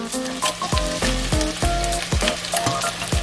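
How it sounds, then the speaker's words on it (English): Eggs frying in a pan for Bacalhau à Brás, salted cod, with a bright continuous sizzle, punctuated by several rhythmic knocks of a utensil against the pan. "Now I'm going to add the eggs."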